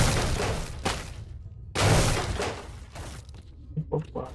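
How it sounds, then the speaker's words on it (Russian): Wooden crates smashed open in the S.T.A.L.K.E.R. game, two sharp breaking crashes with splintering debris, followed by a few smaller knocks. "тут вообще есть смысл какой-то ящики эти разбивать?"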